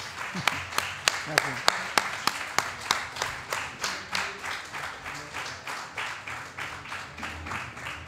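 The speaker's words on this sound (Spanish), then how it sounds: "Pues Gijón, un aplauso para Agustín Rivera" The audience at a book presentation in Gijón applauds the author of a book of Hiroshima survivor testimonies, starting with a few sharp, distinct claps that settle into a steady, rhythmic clapping that slowly fades.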